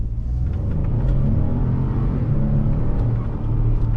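Low, steady engine rumble and road noise from inside a moving Ford Expedition XLT SUV with a 10-speed transmission, constant and fairly loud with slight swells as it accelerates.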